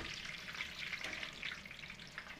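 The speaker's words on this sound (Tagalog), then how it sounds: "Oh, ganda ng prito. Lubog na lubog sa mantika." Lechon kawali pork deep-frying submerged in oil, a faint steady crackling sizzle with soft bubbling, continuous and without talk.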